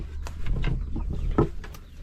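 Laying hens on a small farm cluck in a loose, irregular series of short calls, fairly close and moderately loud, with no talk over them.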